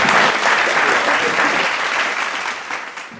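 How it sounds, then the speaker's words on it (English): Brief burst of enthusiastic audience applause after a mentalism routine on stage, many hands clapping loudly at once and tapering off near the end. "Let's hear it for these guys, everybody."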